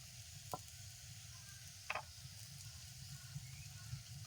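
Mustard oil heats in a pan after fish was fried in it, giving a steady low sizzle with a couple of faint clinks. A voice speaks quietly underneath.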